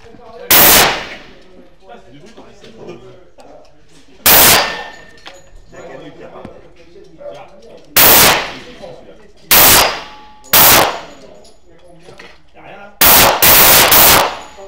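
Colt .45 pistol fired one-handed at an outdoor shooting event, sharp loud reports spaced several seconds apart, ending in a quicker cluster of three or four shots, with faint background chatter and ambient noise between.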